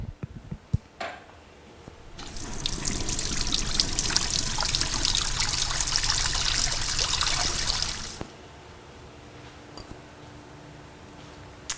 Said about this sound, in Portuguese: Será que podemos tomar ela direto da torneira?